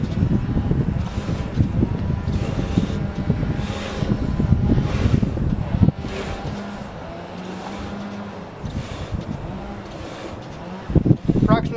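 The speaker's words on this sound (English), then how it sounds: "Spin your wheels by hand." A 60-inch Oscar sawmill wheel turned by hand gives a steady low rumbling whir with airy rushing noise, close to the microphone, holding level for most of the stretch and broken by a few knocks near the end.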